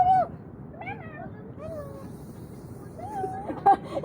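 A cat meows outdoors in Intramuros, several drawn-out meows spread across a few seconds, moderately close, with faint background chatter.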